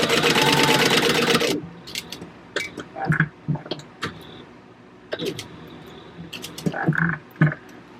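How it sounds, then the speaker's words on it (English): A domestic sewing machine stitches along the edge of fabric for a bucket bag, loud and close at first, then followed by scattered short clicks and handling sounds of the fabric and machine. "So let's go to the sewing machine and do that."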